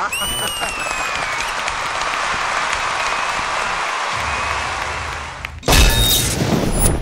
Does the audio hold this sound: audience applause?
yes